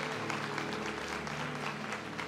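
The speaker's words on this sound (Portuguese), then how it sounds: "aplauda o Senhor, porque Ele é bom" Church congregation applauding during worship, a dense, steady wash of clapping that fills the space evenly for a couple of seconds, with a low sustained tone underneath.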